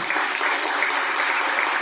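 A church congregation claps loudly and steadily for a short burst, a dense even wash of applause.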